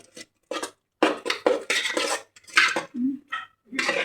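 A spoon mixing food in a metal pot for a Diwali dish, heard as a run of close, uneven clinks and scraping bursts separated by short pauses.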